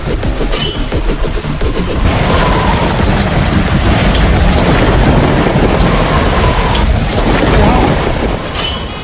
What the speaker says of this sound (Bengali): আরে বাহ, বৃষ্টি হয়ে গেছে